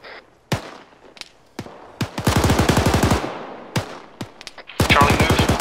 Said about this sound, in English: Section deliberate fire on likely firing points.